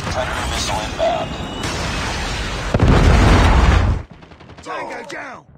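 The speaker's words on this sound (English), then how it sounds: "Predator missile inbound." A Predator missile strike in Call of Duty Mobile lands in a loud, booming blast amid ongoing gunfire and battle noise, a roaring wash that cuts off sharply, followed by quieter game voice and effects.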